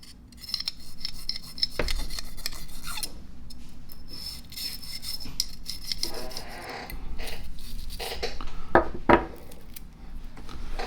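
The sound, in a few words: brass brush scrubbing pistol metal with solvent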